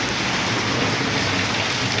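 Dense, steady downpour of heavy rain in a storm at Basirhat, North 24 Parganas, heard from a fruit shop; a constant broadband hiss with no breaks or voices.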